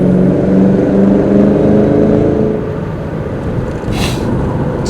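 A 2003 Ford SVT Cobra drives along with a loud, close engine drone that drops in pitch as it downshifts, then holds a lower steady hum, with no speech.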